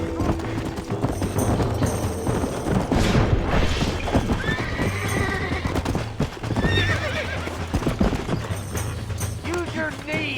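A horse in the Red Dead Redemption video game gallops with steady clip-clop hoofbeats and gives several loud whinnies, heard close over a continuous game soundscape with voices talking at times.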